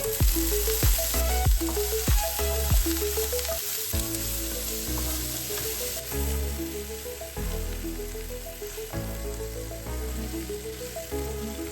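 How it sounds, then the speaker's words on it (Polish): Continuous loud sizzling of sausage and onion frying together in a pan, with repeated scraping and clacking as it is stirred, busier at the start. "Dorzucamy do cebuli kiełbasę i smażymy razem 3-4 minuty."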